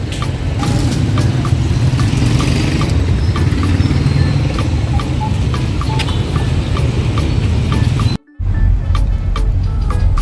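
A large engine runs steadily with a low, constant rumble and scattered mechanical ticks, close and loud, broken only by one short dropout near the end.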